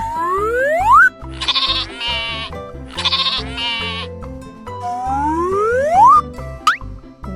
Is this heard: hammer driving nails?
no